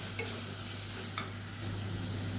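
Tomato with ginger garlic paste sautés in a pan, giving a steady, even sizzle with a couple of faint spatula taps and no voices.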